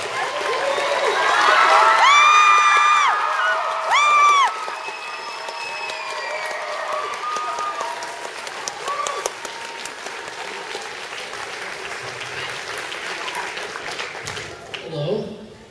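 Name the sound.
audience cheering and applause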